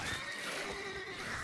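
A horse in The Witcher 3 is struck and gives a short, loud whinny that fills the moment, with no talk over it.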